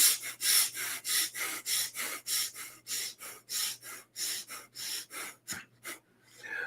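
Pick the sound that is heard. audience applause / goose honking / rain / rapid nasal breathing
rapid nasal breathing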